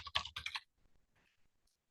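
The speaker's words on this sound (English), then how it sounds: "this link that I am typing into the chat" Fast typing on a computer keyboard in a quiet room, a dense burst of close clicking keystrokes followed by a few scattered fainter taps.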